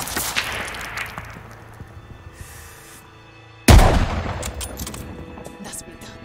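Gunfire in the World War II shooter Call of Duty: Vanguard: a sharp, loud crack bursts out after a stretch of tense battle ambience, then rattling shots and debris follow as the fight continues.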